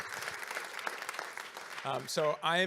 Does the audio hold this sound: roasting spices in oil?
no